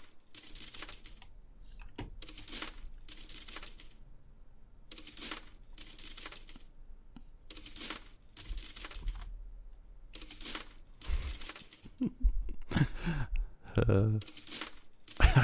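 Loose coins drop and jingle in repeated bright bursts, about a dozen short clattering spills separated by brief gaps, played on loop as a sound-guessing game; a voice briefly speaks near the end.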